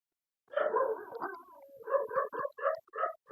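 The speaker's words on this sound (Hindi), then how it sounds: "कुत्ते डिस्टर्बिंग कर रहे हैं" Dogs howl and bark close by, opening with a drawn-out wavering howl and then breaking into a rapid series of short, yelping barks.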